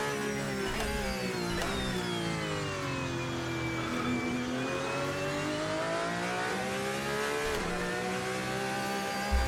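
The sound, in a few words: Porsche 911 RSR GTE engine with sound mod, racing video game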